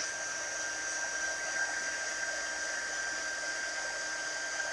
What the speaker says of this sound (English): I'm turning on. This is our heat tool right here. And I'm going to just hold it above and kind of doing a shake to it.